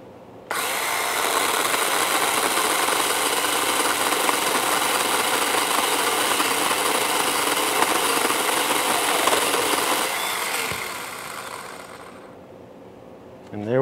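A Ryobi 18-volt battery pole saw motor cuts through a tree branch just off the main trunk, giving a loud, steady high whine for about eleven seconds before winding down and stopping.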